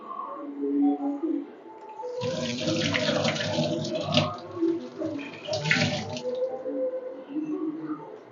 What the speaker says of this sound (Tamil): இப்போ இந்த இதை ஃபுல்லாக வந்து தொடச்சி அடுப்பெல்லாம் கழுவி விட்டு பண்ண போகிறேன்